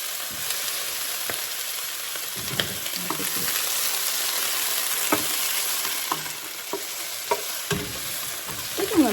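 Freshly harvested collard greens with bean sprouts and Brussels sprouts sauté in a hot pan for egg rolls, a steady close sizzle broken by frequent scraping stirs and light clacks of the utensil, with no talking.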